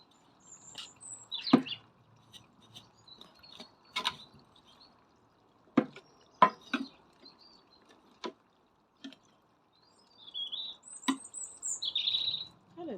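Birds chirping outdoors by a garden window box, scattered faint tweets and short calls with a few sharp clicks and taps nearby, spaced irregularly over quiet.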